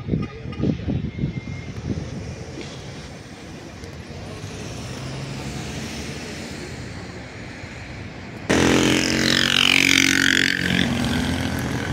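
A city bus pulls into a bus terminal at night in Mogi das Cruzes, with a steady engine rumble and road noise building, then a louder hiss and roar near the end, under light talking.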